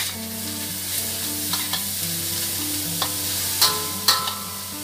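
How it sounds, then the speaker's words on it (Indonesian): Carrots frying in a pan for stir-fried tofu sizzle steadily while a utensil stirs them, with soft scraping and a couple of sharper clinks against the pan, close and without voices. "Sesudah itu masukkan wortel. Ini kita aduk."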